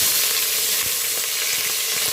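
Meat for adobo fries in oil in a pan beside eggplant, a dense, loud, continuous sizzle with faint spatters and occasional scrapes.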